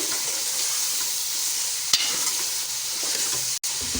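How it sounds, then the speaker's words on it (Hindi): Mutton frying with whole spices in a pot, a steady close sizzle throughout with a brief scrape of stirring partway through. "अब 3 से 4 मिनट इसको हम इस तरह से पकाएंगे इसी खड़े मसाले में"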